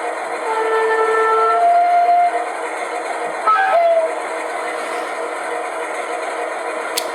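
Hornby Class 47 model locomotive sound module in Railfreight Distribution livery, playing a steady diesel engine hum with a few short two-tone horn blasts early on, all at a small, tinny scale.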